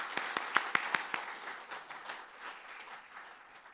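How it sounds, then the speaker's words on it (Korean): A church congregation applauds after members are welcomed during a Sunday morning service, a burst of sharp claps opening loud and thinning into a softer, scattered patter over a few seconds. "박수해 주십시오."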